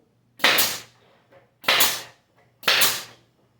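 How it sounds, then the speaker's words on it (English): Pneumatic nail gun fired at an angle through a wooden cabinet dado, making three loud, sharp close bangs about a second apart, each followed by a faint click. "I'm taking my nail gun at an angle where it's in that dado"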